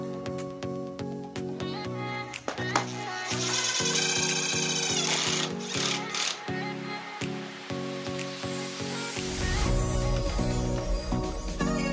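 Power drill driving screws into common lumber held in a corner clamp, with repeated bursts of whirring motor and a long sustained run, close and clear, with no talking.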